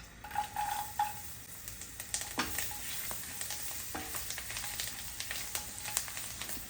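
Chopped garlic frying in butter with bay leaves, cinnamon and cloves in a hot pan, giving a steady close sizzle with scattered stirring scrapes and light clicks throughout.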